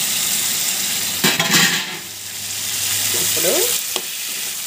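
Chopped tomatoes sizzle in hot oil in a pan while a ladle stirs them, steady frying hiss with short scraping and clinking strokes of metal against the pan, close and clear.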